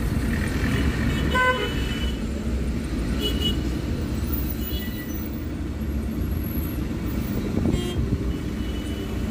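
Road traffic at the Chiplun junction on the Mumbai–Goa highway (NH66), where pillar construction is underway: a steady, loud rumble of vehicles with repeated car horns honking throughout, no talk.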